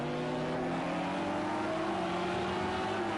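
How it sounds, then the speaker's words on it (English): BMW M6 GT3 race car, number 45, in Project CARS 2 at Circuit Zolder, its engine droning loud and steady with smoothly shifting pitch, heard alone. "We are driving with Gaz in the BMW M6 GT3, the number 45"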